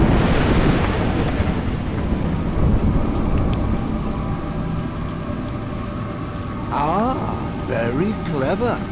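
Steady heavy rain pours throughout with a deep rumble of thunder rolling at the start, and a voice speaks briefly near the end, in the video game A Juggler's Tale.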